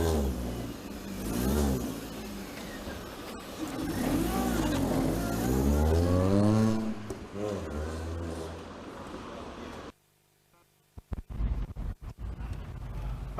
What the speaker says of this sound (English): So now we're going to take the car out for a spin